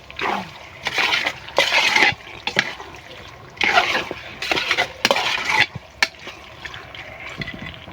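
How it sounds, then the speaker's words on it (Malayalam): Water poured into meat cooking in a pot, several splashing gushes in short bursts separated by pauses, close and fairly loud. "വെള്ളം ഒഴിക്കണം"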